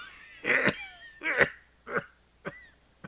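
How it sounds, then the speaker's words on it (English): Five short, harsh coughs in the video game Octopath Traveler, spaced about half a second apart, fading in strength, heard close with nothing else around them. "Yo, stop coughing, bro."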